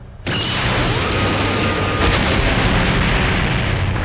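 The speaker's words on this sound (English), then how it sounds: "With that powerful explosion," A sudden loud boom erupts into a sustained roaring blast in the video game Dragon Ball New Age, with a second surge partway through before it rumbles on.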